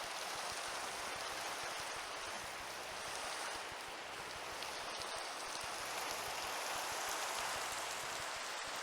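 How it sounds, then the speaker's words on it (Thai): Rain falls in the video game Minecraft as a soft, even hiss of steady downpour, continuous and fairly quiet with no voices over it. "หนาวฝนตก"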